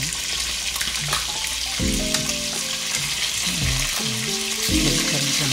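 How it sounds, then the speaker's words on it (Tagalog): Chicken thighs frying in a pan for a chicken steak recipe, with a steady close sizzle and crackle running throughout. A few brief tonal clinks and scrapes come from stirring or turning the pieces, and no one speaks. "So, continue lang po tayo sa pag-prito."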